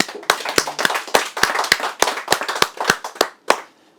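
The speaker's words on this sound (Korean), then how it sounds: "우리 스스로 박수를 좀 쳐주시기 바랍니다" A small audience at a Korean history lecture claps along in uneven bursts, a dozen or so sharp, close hand claps standing out over softer scattered clapping before it dies away.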